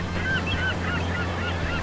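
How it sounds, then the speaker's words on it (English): Geese honking in an indoor play place's ocean-themed area, several short nasal honks over a steady low mechanical hum, likely a recorded sound effect. "See how there's birds up there?"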